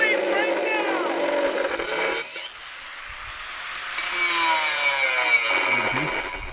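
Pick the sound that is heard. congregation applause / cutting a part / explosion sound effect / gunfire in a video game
cutting a part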